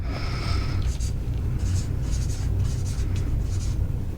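Pen scratching on a sheet of paper, close and repeated in quick rhythmic bursts as words are written, over a low background hum.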